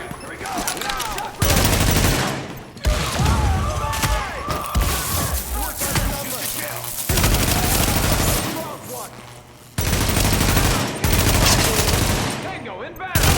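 Sustained gunfire from The Division video game, loud, dense bursts of automatic and rapid shots running almost continuously with brief lulls, mixed with voices calling out amid the shooting.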